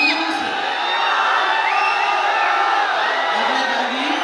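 Large crowd at a film trailer launch and pre-release event cheering, whooping and shouting in a dense, continuous roar that stays loud throughout.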